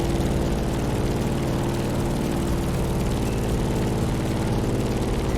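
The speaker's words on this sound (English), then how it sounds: "In the cockpit of a stunning Grumman F8F Bearcat," A Grumman F8F Bearcat propeller plane in the racing game The Crew Motorfest drones loudly and steadily, its heavy radial engine and propeller hum constant and close throughout.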